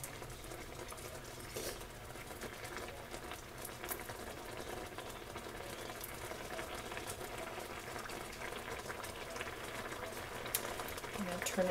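Salisbury steak patties simmer in gravy in a pan, giving a quiet, steady bubbling with faint stirring and small pops that grow slightly louder toward the end.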